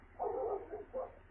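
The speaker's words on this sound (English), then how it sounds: "when I hear this dog noise, barking, incessant dog barking, it kind of makes me upset" A dog near a trailer park barks incessantly, heard here as two muffled barks, a longer one then a short one, faint and somewhat distant over a low background hum.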